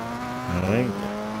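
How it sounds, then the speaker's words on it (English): A race car in Gran Turismo 6 exits the final turn at Fuji Speedway, its engine note climbing and then settling as it accelerates out of the corner in one close, continuous roar. "coming out the last turn of Fuji Speedway"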